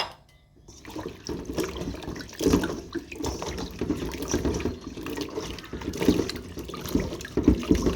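Fresh chilies being rinsed in clean water, with steady close splashing and sloshing throughout and heavier surges every few seconds, after a brief quiet start.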